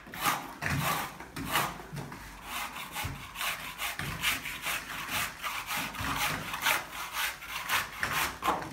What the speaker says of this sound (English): I'll finish scraping this off